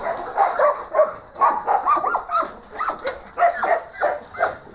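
Traumatized rescue dogs taken in from the street bark and whimper in a series of sharp, repeated yelps and barks, fairly close and loud, coming in quick bursts with short gaps.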